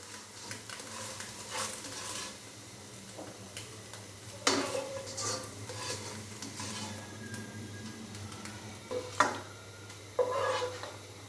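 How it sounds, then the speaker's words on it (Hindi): Eggs frying in a kadhai while a spoon breaks them into small pieces: a faint, soft sizzle under a low hum, broken by several sharp metallic scrapes and clinks against the pan. "अच्छे से इसको फ्राई कर लेंगे और साथ साथ अंडों के छोटे छोटे पीसेस कर लेंगे।"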